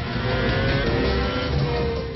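A Red Bull Racing car in a racing simulator accelerates around the Valencia circuit with a steady, loud engine drone and a faint squeal of tyres. The sound is continuous and close, with no talk.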